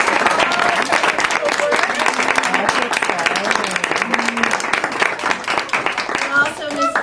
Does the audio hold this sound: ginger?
no